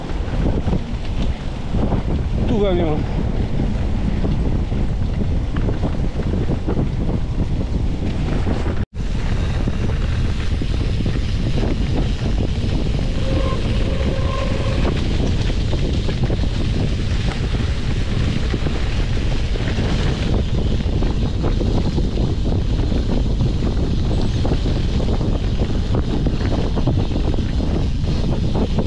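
Loud, steady wind buffeting the microphone throughout a 100-mile ride in the Oise, a constant roar with one sharp knock near the start and a few brief spoken words.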